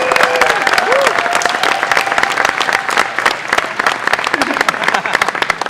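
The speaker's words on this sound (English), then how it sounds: "And also give Rocky a round of applause" A crowd at an FC: Unleashed 2019 event claps loudly for Rocky, dense sustained applause filling the room, with a voice and a few whoops carrying over the noise.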